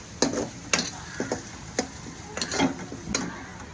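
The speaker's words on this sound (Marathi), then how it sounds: "हे आता आपण मसाले टाकलेले परतून घेऊया" Spices for masala rice being sautéed in a pan, with a soft background sizzle and several sharp spoon scrapes and clinks as the mixture is stirred at an irregular rhythm, close and clear.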